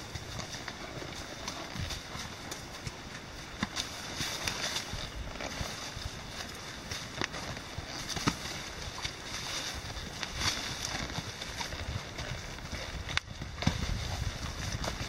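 Horses ridden on a forest trail at McIntosh step slowly over uneven ground and a fallen log, giving soft, irregular hoof thuds with faint rustling, quiet and outdoors.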